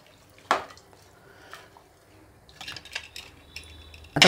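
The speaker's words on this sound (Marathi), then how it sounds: "चांगला हलवून घेऊ" A spoon stirs masala khichdi of dal, rice, spices and water in a pressure cooker pot, giving sparse light clinks and scrapes, with a louder knock at the start and another at the end.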